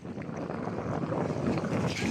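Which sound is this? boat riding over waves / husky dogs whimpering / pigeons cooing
boat riding over waves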